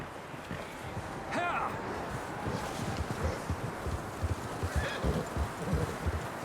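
Horses whinny and clip-clop in Red Dead Redemption 2, a neigh rising near the start and another later, hooves thudding in an uneven gallop rhythm amid rustling ambience, with voices talking over them.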